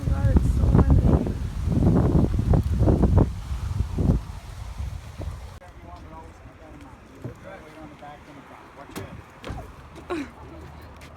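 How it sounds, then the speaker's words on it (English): Strong gusts of wind buffet the microphone during a first boat ride on open water, with loud, rumbling blasts under close chatter before easing to a lighter steady breeze. "Oh god, it's so windy."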